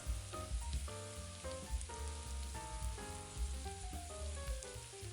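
Chopped anchovy fillets fry in extra virgin olive oil in a large pan over medium heat, a close, crackling sizzle with steady popping and irregular spatter throughout.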